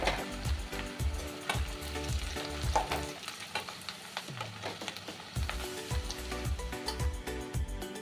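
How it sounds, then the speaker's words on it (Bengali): Potatoes fry in hot oil in a kadai with a steady, close sizzle, and repeated stirring scrapes and knocks set a rough rhythm across the clip. "আলুটা খুব সুন্দর ভাজা হয়ে গেছে।"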